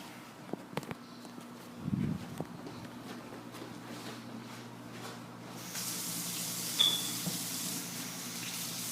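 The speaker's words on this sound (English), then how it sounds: "I'm going to go ahead and wash my hands." A sink faucet runs quietly while hands are washed in a clinical exam room before a nursing assessment. A soft, steady water hiss carries brief splashes and a few faint footsteps, then the flow grows brighter and louder toward the end.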